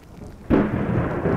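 Thunder rolls in abruptly in a video game, a loud, close, rumbling crash that holds steady for about a second over a faint bed of rain.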